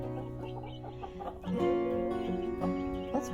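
Chickens cluck and murmur in a coop, several birds overlapping in a steady close chatter that grows slightly louder partway through, with a few sharper calls standing out.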